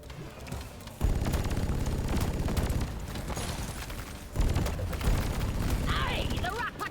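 Continuous rapid firing from a plasma gun in Deep Rock Galactic, a dense pulsing barrage with two sustained stretches separated by a brief break, with a voice talking over parts of it.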